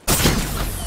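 A gunshot in the video game Fortnite, one abrupt loud crack that starts sharply and trails into a brief rumbling decay, alone and with no speech.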